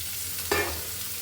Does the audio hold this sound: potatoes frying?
yes